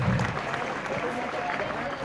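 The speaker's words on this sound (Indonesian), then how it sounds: "Tepuk tangan Ibu untuk Bu Dede." Audience applause at a religious gathering, given for Bu Dede, a steady clapping texture lasting about two seconds at moderate level, with a voice heard over it near the start.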